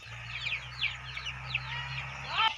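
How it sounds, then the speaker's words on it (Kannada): Native country chickens on a village farm clucking repeatedly in short, bright calls over a steady low hum, with a louder call near the end. "ಕೋಳಿ ನೋಡಿ ನಾಟಿ ಕೋಳಿ ಸಾಕೊಂಡವ್ರು ನೋಡಿ"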